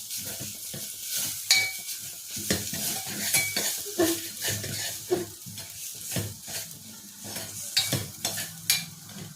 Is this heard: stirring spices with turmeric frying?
yes